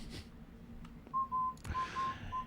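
A whistled melody from Animal Crossing game music plays faintly: several short, pure sustained notes in a row following a few soft clicks, with no talking.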